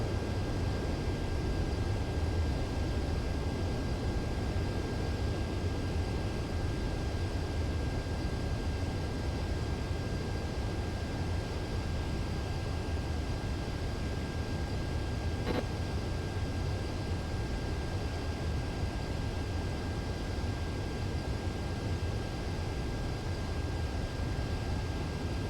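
Steady, unbroken roar of an Su-33 Flanker jet in Ace Combat 7 coming in for a visual landing, a dense broadband engine rush holding at constant loudness throughout with no voices.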